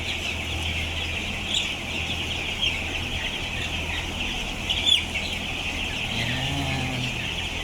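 Young chicks peep and cluck steadily among farm chickens, a continuous high chirping chorus with a few louder calls, close by, over faint background noise.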